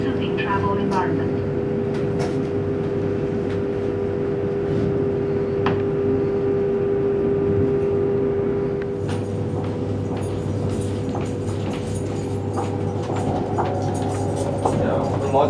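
A high-speed EMU train running from Beijing toward Xi'an, heard from inside the car as a steady loud rolling rumble and hum with occasional clicks and rattles, and a person talking over it.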